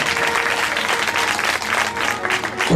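Audience clapping to welcome guests at the closing day of a Shiv Mahapuran religious gathering, a dense, steady round of applause from a sizable crowd that carries on without a break.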